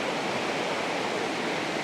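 Small jungle stream or little waterfall, a steady broadband rushing and trickling wash of water, constant and moderately near with no voices.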